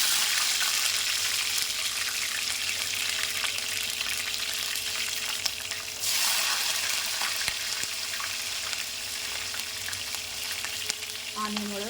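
Green chillies and onion fry in hot oil with cumin for a chole masala, giving a dense, steady sizzle up close with occasional stirring clinks.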